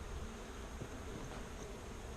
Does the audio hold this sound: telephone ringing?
no